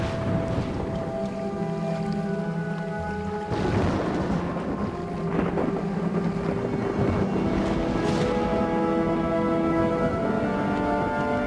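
Thunderstorm ambience for a vast underground ocean lit by lightning, with a continuous low rumble and roaring wind-like noise, punctuated by a few louder thunder cracks and rolls, heavy and sustained throughout.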